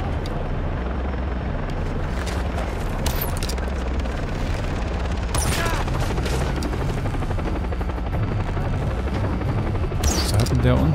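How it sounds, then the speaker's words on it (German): A helicopter arrives in the video game Far Cry 3, its heavy rotor thudding steadily and loudly throughout, with bursts of gunfire and impacts cutting in and someone talking over the noise. "Oh, mit Helikopter."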